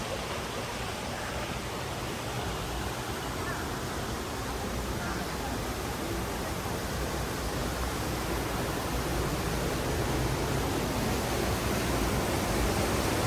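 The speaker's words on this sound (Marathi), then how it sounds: "मस्त वॉटरफॉल वाहतोय, पाणी वाहतंय" Steady, broad rushing of a waterfall in Wales surrounded by dense trees, an unbroken wash of falling water that holds an even level throughout and builds slightly toward the end.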